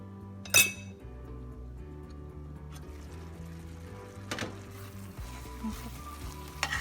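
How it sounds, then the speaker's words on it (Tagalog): Coconut bun filling simmers in a pan with a faint steady sizzle and bubbling, broken by a sharp clink of a utensil and occasional stirring scrapes. "Simmer pa natin ng mga 2 minutes at luto na yung ating filling."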